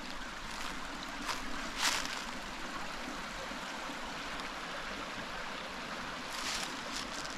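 Steady, broad wash of creek water at Sarah's Creek in Georgia, flowing continuously at moderate level beside a campsite, with a few faint brief splashes or knocks.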